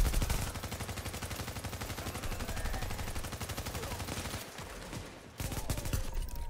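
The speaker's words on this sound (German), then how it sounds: "Jetzt kannst du schießen." Rapid automatic gunfire in The Division video game rattles loudly and steadily, a near continuous stream of shots that briefly cuts out before resuming.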